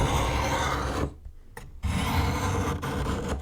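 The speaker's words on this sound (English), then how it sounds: "I'm just going to do a quick few passes on my brownstones" Steel knife blade drawn across a brownstone sharpening stone in quick gritty passes, a close, steady rasp broken by a short quiet gap before the scraping resumes.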